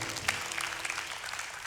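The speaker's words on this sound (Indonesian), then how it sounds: "Tepuk tangan yang luar biasa." A church congregation applauds during a sermon, a loud continuous clatter of many hands clapping at close range.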